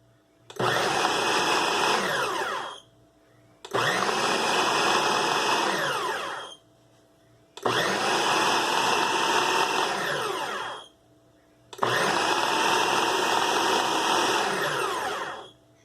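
A food processor pulsing pie crust dough with ice water: four long, loud motor bursts of about three seconds each, separated by brief silent gaps, with no talking.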